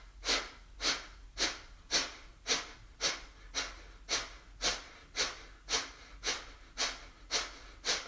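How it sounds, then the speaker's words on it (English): Kapalabhati yoga breathing: a steady run of about fourteen sharp, forceful exhales pumped out through the nose at roughly one per half second, each a short breathy burst, close and clear with no talk. "pump out breaths in Kapalabhati breath, which is just an exhale"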